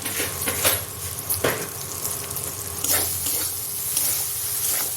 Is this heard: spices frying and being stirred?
yes